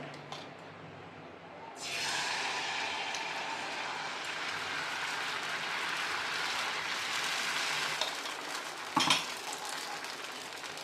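Spinach dosa batter poured onto a hot pan bursts into a loud, steady sizzle after a quiet start, hissing continuously with a brief clatter of utensils near the end.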